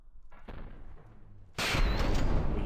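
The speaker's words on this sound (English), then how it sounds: "We hit with the missiles, so that's a good start." Missile strikes hitting a target in a sci-fi space combat video game: a softer thump early on, then a sudden loud, sustained roaring blast that fills the rest of the clip, with no talk.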